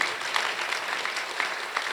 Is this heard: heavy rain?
no